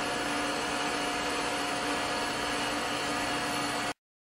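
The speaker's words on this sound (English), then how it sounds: "I'm going to sponge grind this side until it cleans up." A surface grinder takes a sponge grinding pass across the side of a precision angle plate, giving a steady, loud broadband hiss and whine that runs without a break until it stops abruptly near the end.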